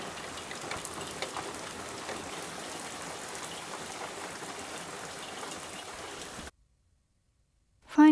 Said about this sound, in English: a heavy rain shower brought some much needed water in the garden